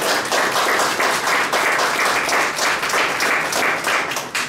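Enthusiastic applause from the audience at a citizenship conference, thick continuous clapping that stays loud and even throughout, heard close with no pause.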